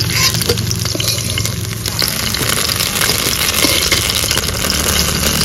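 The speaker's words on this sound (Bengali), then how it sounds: "পটলগুলো হালকা করে ভেজে নিয়েছি" Slices of pointed gourd (potol) sizzle in hot oil, giving a loud, continuous crackling fry with occasional stirring scrapes close by.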